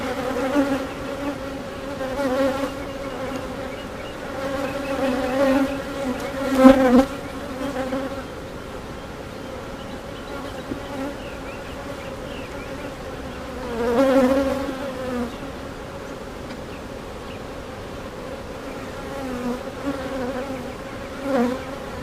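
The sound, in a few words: honey bees buzzing at an open hive during inspection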